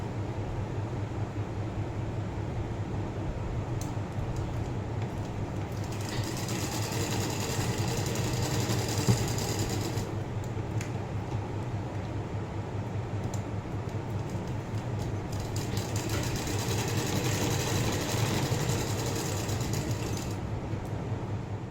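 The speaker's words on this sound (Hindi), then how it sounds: "अब हम यहाँ सिलाई लगाएंगे" A sewing machine stitches a blouse in two distinct runs of rapid, rattling mechanical chatter over a low steady hum, with a quieter pause between them.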